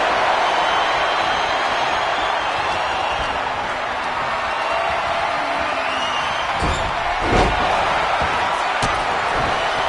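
Wrestler slammed onto the mat in the WWE 2K26 video game, a sharp thudding impact bursting out over a steady roaring arena crowd, followed by a couple of smaller hits.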